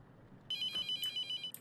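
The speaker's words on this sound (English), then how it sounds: "Hold on, I'm getting a phone call." Phone ringing in the horror game The Mortuary Assistant, a bright electronic trill in short rapid pulses that begins after a moment of quiet hum and repeats evenly, fairly faint and without talking.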